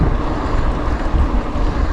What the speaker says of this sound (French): je démarre en plein vent